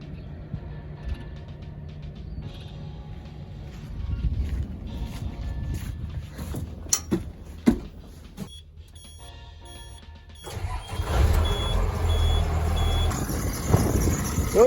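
A BlueBird bus with a Cummins diesel engine runs with a low rumbling idle, broken by brief clanks and clicks and a steady beeping tone, growing louder toward the end.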